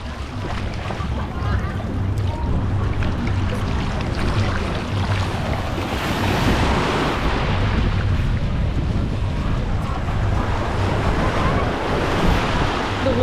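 Steady roar of surf and wind fills the whole stretch on a beach in Cancun, loud and constant, with waves washing in continuously and buffeting noise close to the microphone.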